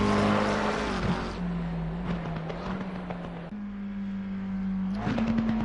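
A McLaren race car's engine sounds during a race, a steady, fairly loud drone that shifts in pitch as it changes gear, with other cars audible around it and no talk.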